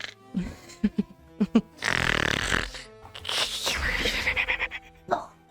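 A person imitates a pug's loud snoring with snorting, rasping breaths and throaty rumbles, interspersed with short voiced sounds.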